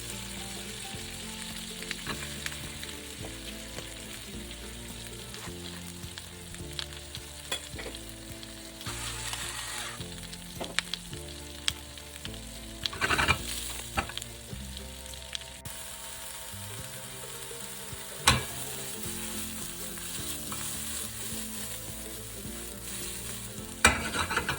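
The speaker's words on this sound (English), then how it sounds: "we start out by sauteing our mushrooms and our spinach together in a little olive oil and just a pat of butter" Mushrooms and spinach sauté in a little olive oil and a pat of butter, a steady close sizzle and crackle running throughout with occasional scrapes and stirring clatters of the utensil against the pan, no voices.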